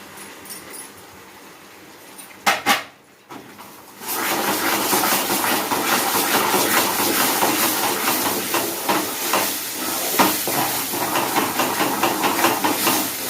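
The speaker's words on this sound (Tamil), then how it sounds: "இப்போ ஒரு 2-3 நிமிஷம் இந்த மாதிரி நெய்யிலே நல்லா வறுத்துக்கோங்க ரவையை." Semolina roasting in ghee in a pan for mango kesari, a steady close sizzling hiss that swells after a brief stir and stays even, with no talk.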